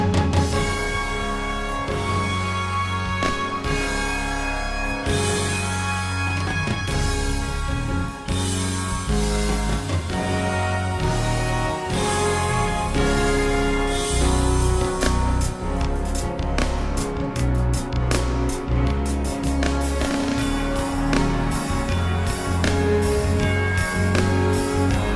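Full orchestral passage from a song in the musical Wicked, with booming timpani rolls and crashing cymbals driving a loud, dense, building climax over brass and strings.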